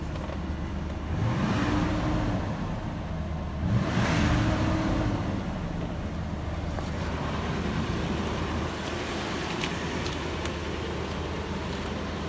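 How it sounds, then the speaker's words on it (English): Car engine turning over and catching at about 1.5 and 4 seconds, then idling steadily with a loud, rough rumble close by; no talking. "Car starts up."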